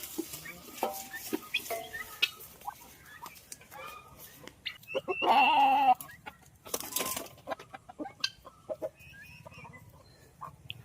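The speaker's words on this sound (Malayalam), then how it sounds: "ഈ കൂട്ടിൽ മൂന്ന് കോഴികളാട്ടോ" Hens cluck softly and intermittently in a coop nearby, with one louder squawking burst midway and rustling movement around them.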